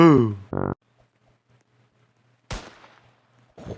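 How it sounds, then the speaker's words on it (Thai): Two sharp gunshot bursts from a Squid Game video game separated by near silence, with a brief voice at the start and a low hum underneath. "โอ้ยเสียงปืน"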